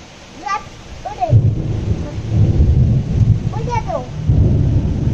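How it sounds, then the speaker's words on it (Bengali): Thunder rumbles low and heavy over falling rain during a storm, a continuous rolling roar that swells and fades across the whole stretch, with a voice and another voice rising briefly above it. "বাবা মেঘ ডাকছে।"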